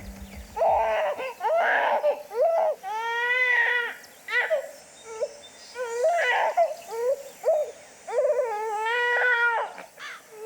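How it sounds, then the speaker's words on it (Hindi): An infant cries in a domestic drama scene, giving repeated wailing bursts with short pauses between them, close and fairly loud, with no talking over it. "बच्चा रो रहा है यार।"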